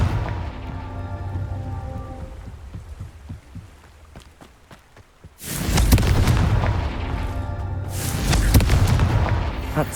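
A Confringo explosion spell in Hogwarts Legacy sets off two heavy booming blasts a few seconds apart, each with a rumbling, crackling tail, following a quieter stretch of low thumps and faint debris.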